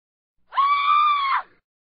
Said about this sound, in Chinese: 一个女修状似疯魔般的尖叫着